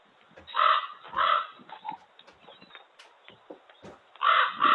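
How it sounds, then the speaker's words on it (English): Ravens cawing inside a facility, several loud harsh calls in bursts with quieter calls scattered between them and no talk over them. "The ravens have invaded the facility, so I'm going to turn off a mic to reduce the raven sound for a second."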